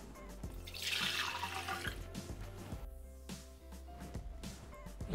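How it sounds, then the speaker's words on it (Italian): Water is poured from a container into a Thermomix TM6 mixing bowl while making a meatloaf, a steady splashing fill for a few seconds with faint kitchen clatter and a small knock at the end. "Senza lavare il boccale, versiamo all'interno l'acqua."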